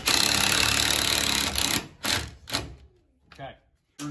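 A power drill drives a screw through a shim into the jamb of a pre-hung door, a sustained whir for about two seconds followed by a few short bursts as the screw seats.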